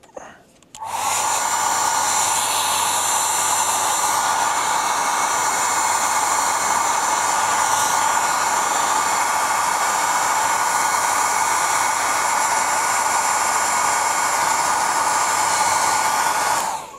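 Hair dryer blowing steadily and loudly for about sixteen seconds, a constant broadband whoosh that starts abruptly and cuts off at the end, with no talking.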